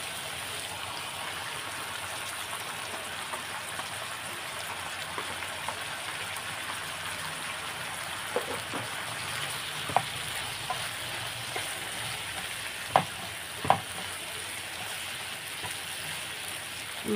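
Beef pho noodles and greens stir-fry in a hot pan, giving a steady hissing sizzle with occasional scraping clicks of a utensil, close and continuous.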